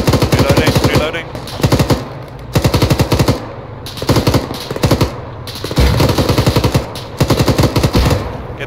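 Machine gun fire in the Arma 3 military game, bursts of rapid rounds repeating through the clip, loud and close, with brief gaps between volleys.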